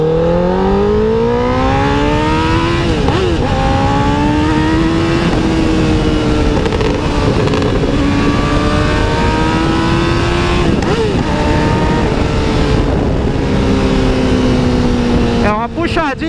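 A loud motorcycle engine revs up and down repeatedly, pitch climbing and falling in strong sweeps, sustained throughout with a brief drop near the end.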